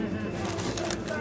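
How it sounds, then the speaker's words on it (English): Parrots call from up high at an outdoor flea market, a few short squawking calls mixed into busy crowd chatter and background noise. "I didn't realize there were parrots up there."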